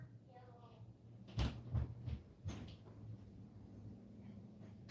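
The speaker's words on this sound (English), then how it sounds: "Jacob, can you close the door?" A room door is pushed shut nearby, making a few soft knocks and a latch click in a quiet room, with a hum running underneath.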